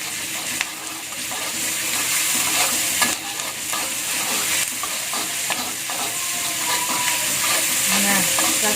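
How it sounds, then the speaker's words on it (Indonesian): Red chilies stirred and fried in a pan for a sweet-spicy tempeh stir-fry, a loud continuous sizzle with repeated stirring scrapes throughout. "setelah kita aduk-aduk cabai merahnya ini"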